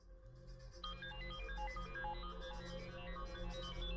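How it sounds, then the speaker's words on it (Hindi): A mobile phone ringtone plays from inside a pocket, a muffled but clear looping electronic melody with repeating tones held at a steady, fairly quiet level for the whole stretch, with no talk. "आपकी जेब से आवाज आ रही है बॉस।"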